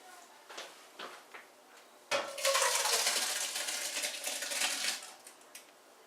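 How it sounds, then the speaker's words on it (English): Cooked vegetables and bacon scraped and dumped from a pot into a large chili pot: a few light metallic clinks, then a loud sloshing, clattering pour lasting a few seconds before settling to scattered taps. "grab the pot of vegetables, dump it right into the big pot"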